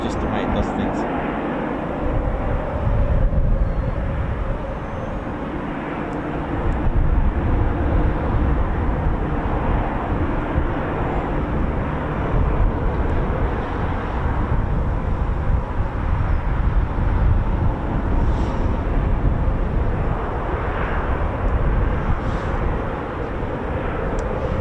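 Eurofighter Typhoon jets spool up somewhere across an RAF base, a distant low rumbling roar that swells and holds steadily, with someone talking over it throughout.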